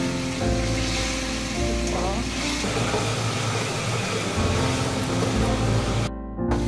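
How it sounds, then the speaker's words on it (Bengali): Chicken fries in a pan over a high gas flame, giving a continuous loud sizzle with a steady rushing hiss that runs almost without break. "এর জন্য ফুল গ্যাসে চিকেনটা ভেজে দেবেন।"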